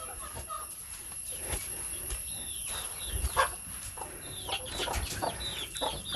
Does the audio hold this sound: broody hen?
yes